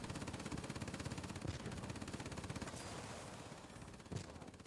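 A rear gunner's machine gun fires in World of Warplanes, a rapid continuous rattle of evenly spaced shots running the whole time over a steady engine drone, faint overall.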